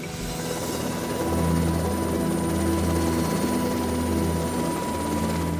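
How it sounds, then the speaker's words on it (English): A rescue helicopter flies close by, its rotor and engine producing a steady, loud low throbbing drone that grows slightly stronger after the first second and holds with no voices. "The helicopter is the undisputed champion of the injured and the sick."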